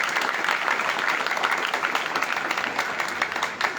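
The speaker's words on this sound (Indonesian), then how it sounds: "Tepuk tangan." Audience applause filling a hall at a motivational talk, a dense steady wash of many hands clapping that holds at full strength for several seconds before easing slightly at the end.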